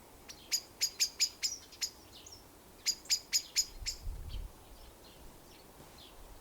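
Two bursts of close, bright chirping come from birds singing outdoors in a quiet, still setting, with a few fainter calls trailing off against soft background hiss.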